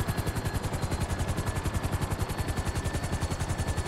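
Helicopter in the GTA V video game flying low and setting down, a loud steady rotor chop with rapid even pulsing throughout and a bright whine above it, no talk.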